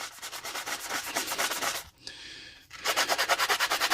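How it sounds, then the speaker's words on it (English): Sandpaper roughing up the smooth, shiny side of a miniature scenic base: quick, rhythmic back-and-forth scratchy rubbing strokes up close, a brief pause midway, then the rapid scrubbing resumes. "I'm trying to find my sandpaper. So I'm going to rough it up."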